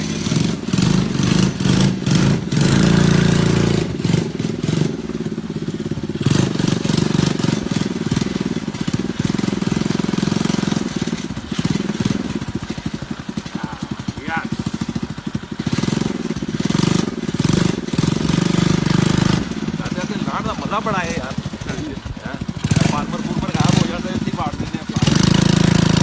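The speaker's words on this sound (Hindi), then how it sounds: "अभी आप देखेंगे फिर मोटरसाइकिल के करतब" A motorcycle engine revs and idles up close, its throttle blipping repeatedly in choppy bursts with loud, uneven rumbling throughout.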